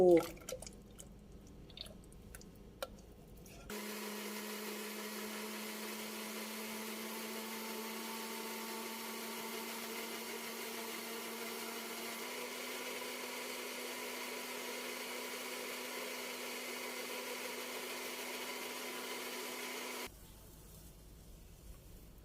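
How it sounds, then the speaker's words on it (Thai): Electric blender whirring steadily for about sixteen seconds as it whips Thai simmered sugar syrup until fluffy, a constant motor drone that starts abruptly and cuts off cleanly, with a few kitchen knocks before it begins. "สำหรับน้ำตาลเคี่ยวสูตรนี้นะคะ ก่อนที่จะนำไปใช้นะคะ จะต้องนำไปปั่นค่ะให้ฟู"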